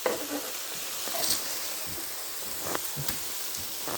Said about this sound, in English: When you flip one, you want to flip all of them at the same time so they cook evenly.